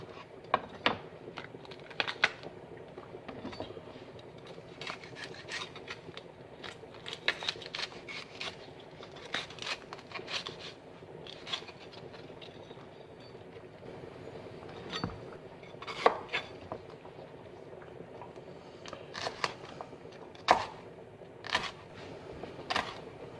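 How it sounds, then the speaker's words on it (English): A knife cuts bell pepper into small brunoise cubes on a board, giving a steady run of light, sharp taps and clicks at close range, with a few louder chops spread across the stretch. "We also are gonna cut these vegetables into brunoise, so little cubes."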